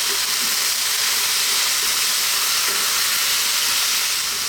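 Spicy tuna and tomato pasta sauce simmers in a pan with black pepper, a constant loud sizzling hiss that runs unbroken and evenly throughout, no voices over it.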